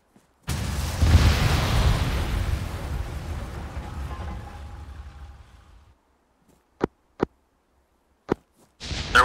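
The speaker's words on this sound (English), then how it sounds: "There was our explosion" A large explosion detonates in the military video game Arma 3, a sudden loud boom that rolls and rumbles for about five seconds before fading, followed by a few sharp distant cracks like gunfire.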